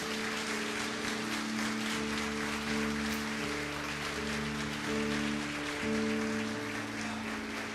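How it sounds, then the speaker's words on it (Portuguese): A church congregation at a Tabernacles celebration applauds the Father, a continuous wash of clapping from many hands over sustained music or organ tones. "Você pode aplaudir o Pai?"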